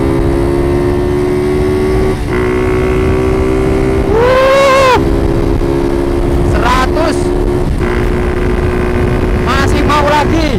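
A Yamaha Vixion motorcycle in old-style Japan trim, with the front wheel set 10 cm forward, drones loud and steady at full throttle on a test ride. Its engine swells in one brief rising rev midway, over wind noise, with a voice at times.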